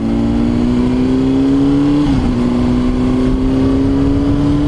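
A 2005 Honda CBR600RR motorcycle engine drones loud and steady, pulling hard with a sustained rising tone that dips briefly midway and then climbs again, close by and with no talking.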